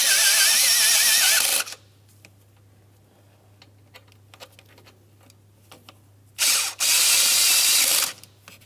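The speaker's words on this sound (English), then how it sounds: "We're going to snug both of these mounting bolts as well." A ratchet snugs the EGR tube adapter mounting bolts on a 1998-2002 Lincoln Navigator, two bursts of rapid close clicking separated by a quiet pause.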